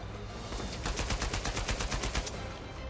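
Rapid bursts of automatic gunfire in the video game Uncharted 4, a run of about a dozen evenly spaced, loud shots fired close up over steady background noise.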